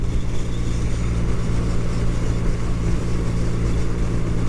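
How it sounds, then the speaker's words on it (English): Steady traffic on a busy road beside a bay, a continuous loud engine and tyre roar with low-pitched rumble and no clear gaps between passing cars. "Actually a lot of cars on here."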